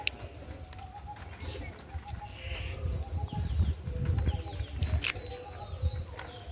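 Native pigeons coo softly and repeatedly in a loft at Ranihati, Jolakanduya, with low murmuring calls and some clucking from other birds in the background.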